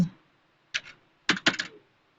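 Typing on a computer keyboard while writing HTML code: a short burst of clicky keystrokes, then a quick cluster of several taps, close and fairly quiet in a silent room.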